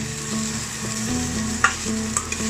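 Onions sauté in a pan with a constant close sizzle beneath a low steady hum, punctuated by a few brief clicks of a stirring utensil.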